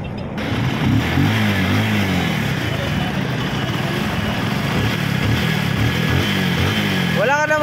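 Honda NS125 fi motorcycle engine idles steadily after repair of an engine knock, with a continuous even buzz, close and moderately loud, and a brief rising whine near the end.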